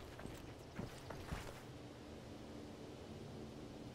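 A few soft, uneven footsteps in the Arma 3 Breaking Point game land early, then fade into a constant hiss of wind-like ambient noise.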